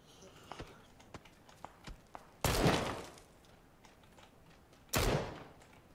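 Scattered enemy gunfire in the battle royale game Battlegrounds: faint, sparse shots in the background, then two loud, close blasts about two and a half seconds apart that each ring out briefly.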